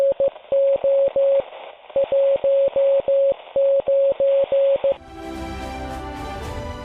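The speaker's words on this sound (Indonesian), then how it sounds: "Radiogram berupa sandi Morse akan dikirim melalui radio" Steady Morse code beeps of a radiogram tap out in short and long tones over a faint radio hiss, then give way to a burst of static and noise.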